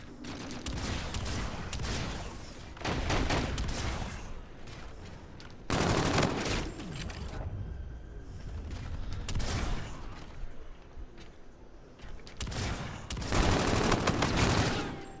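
Heavy automatic gunfire from Call of Duty: Infinite Warfare comes in loud, dense bursts separated by short lulls, with rapid continuous firing and no voices.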